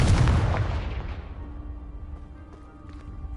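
A Confringo explosive spell blasts a pile of debris in the video game Hogwarts Legacy, a single loud, close boom that rolls off into a fading rumble with faint tonal game ambience after.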